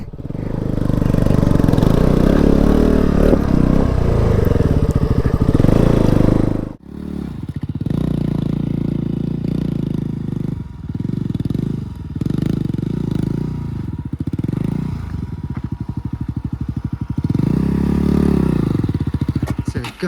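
A KTM 200 motorcycle engine labors loudly climbing uphill near Vagamon, India, revving and dropping in uneven bursts with some clattering, close by.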